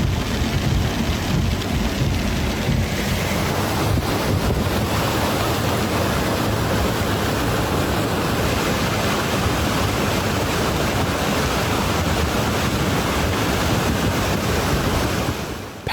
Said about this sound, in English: Powerful thunderstorms triggered severe flooding across Nevada, turning streets into fast-moving rivers of muddy water.